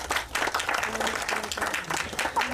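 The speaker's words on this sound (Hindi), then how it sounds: "एक बार जोरदार ताली हो जाए आप सभी की तरफ से" Loud, dense applause from an audience at a Bollywood song launch event, steady and continuous throughout, with faint voices mixed into the crowd noise.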